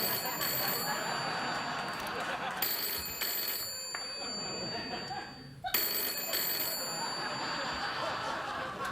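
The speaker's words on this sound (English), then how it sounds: "So that phone's not ringing." A telephone rings in a late-night talk show studio, sounding in loud repeated bursts with pauses between them.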